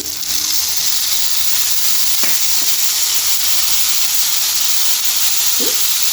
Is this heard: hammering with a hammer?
no